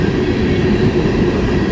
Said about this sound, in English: Yep, CN M397 westbound train.